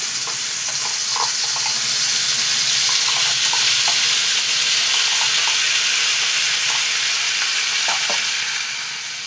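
Spice paste fries in white oil in a pan over a gas flame, giving a loud, steady, bright sizzle that hisses without letup, with faint stirring clicks scattered through it.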